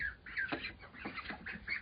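Ducks quack softly and chatter in quick, overlapping calls close by, with faint dabbling and pecking sounds between them.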